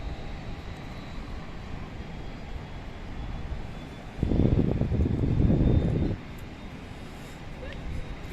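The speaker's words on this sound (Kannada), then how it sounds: "ಇಲ್ಲಿ ನೋಡಿ ಒಂದು ಏರೋಪ್ಲೇನ್ ಹೋಗ್ತಾ ಇದೆ" An airplane takes off at Amsterdam Schiphol airport, its engine roar swelling for about two seconds over steady wind and distant background hum, heard from a terrace.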